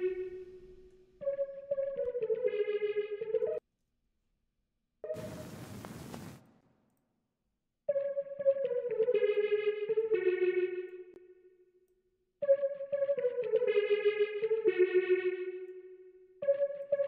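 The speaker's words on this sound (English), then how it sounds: "By sound good, I mean add reverb." A synth melody in a hip-hop beat is run through heavy reverb and effects, with repeated phrases broken by short gaps and a harsh noisy whoosh burst partway through.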